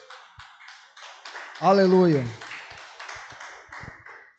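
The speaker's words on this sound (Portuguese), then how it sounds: "Dê uma salva de palmas para Jesus" A church congregation applauds for Jesus in a steady broadband wash of clapping, while a single voice calls out loudly over the middle of it.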